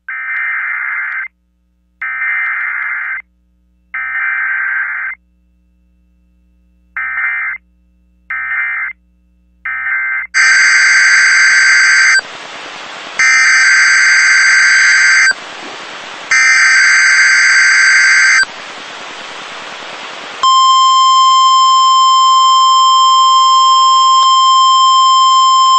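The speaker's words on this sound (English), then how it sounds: "This is a test of the emergency alert system." An Emergency Alert System test plays a series of loud, evenly spaced header bursts, then a piercing two-tone alarm with short gaps, ending in a sustained steady tone.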